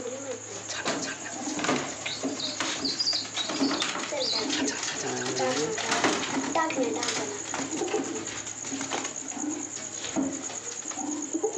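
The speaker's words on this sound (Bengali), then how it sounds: "এই যে পয়রাটা কেমন ডাকছে এবার বুঝতে পারছো তো" Field pigeons cooing and squabbling outdoors, repeated soft low coos with wing flaps and scuffles, close and steady throughout, mixed with other bird calls and a faint continuous hiss.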